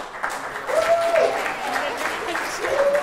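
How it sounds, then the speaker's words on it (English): An audience at a sixth form prize giving at Claires Court applauds its heads of school with a steady round of clapping. A voice is heard over the clapping. "can we give all our heads of school a big round of applause?"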